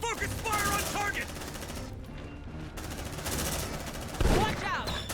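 Rapid, dense automatic gunfire in the video game Aliens: Dark Descent rattles through most of the stretch, with shouted in-game voices layered over the shooting.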